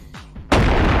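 A single loud gunshot in the VR game Animal Company bursts in suddenly after a brief quiet stretch, followed by a sustained booming rumble to the end.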